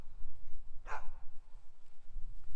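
A single short dog bark on a golf course, fairly close, standing out once against steady outdoor background noise.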